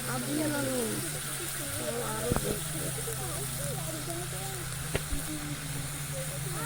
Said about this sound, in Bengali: দই দিয়ে মাংসটা মাখিয়ে রেখেছিলাম এবার ঢেলে দিলাম এর মতনে মশলার সঙ্গে কষে নেই